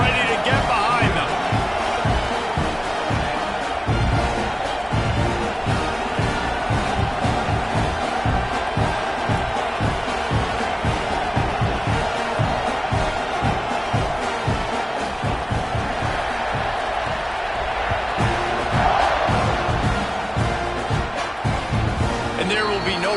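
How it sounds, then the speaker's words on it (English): Loud, continuous roar of a stadium crowd cheering at a football game kickoff between Miami and Texas A&M, with whoops rising throughout under a commentator's steady play-by-play talk. "They're set to kick it off, and this crowd now ready to get behind them."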